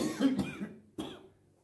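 A man coughs twice, a harsh double cough followed by a single sharp one after a short pause, close and fairly quiet.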